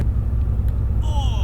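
A BMW M6 rolls slowly as it is repositioned for a photo shoot, giving a low, steady engine rumble close by, with a brief higher whine toward the end.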